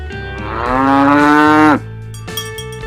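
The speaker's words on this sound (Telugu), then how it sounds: "ఆవు." A cow lets out a single loud, drawn-out moo lasting over a second, rising then cutting off sharply, followed by near silence.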